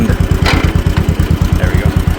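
A 1950 John Deere M tractor engine chugs at a steady, rapid two-cylinder beat close by, loud and even throughout as it is put into third gear, with a brief mechanical clunk partway through.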